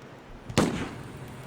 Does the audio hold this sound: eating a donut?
no